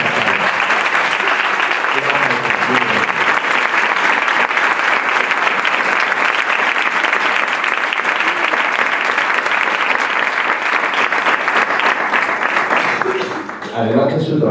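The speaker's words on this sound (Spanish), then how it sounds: "Yo quiero un aplauso que se salga a la sala" Audience in a hall at an international coaching conference applauding, a loud, sustained wall of clapping that fades abruptly near the end.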